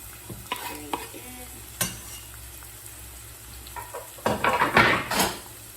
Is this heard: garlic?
yes